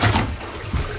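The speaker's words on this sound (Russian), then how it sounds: "Вода засасывается из аквариума, проходит через вот этот биофильтр" Water rushes and trickles steadily through a large aquarium biofilter, a close, continuous wet gurgle with a brief surge near the end.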